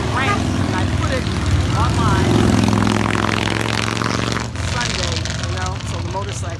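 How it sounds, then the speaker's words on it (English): Motorcycles ride by outside on a Sunday, their engines a loud, steady drone that rises and falls beneath someone speaking close by. "so the motorcycles are out"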